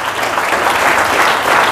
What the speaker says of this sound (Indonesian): Tepuk tangan dulu buat itu.